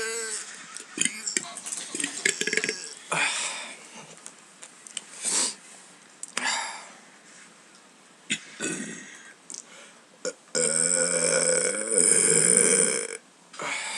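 A person lets out a series of loud, close burps, some short and some long and drawn out, with quiet pauses between them and a sustained belch near the end.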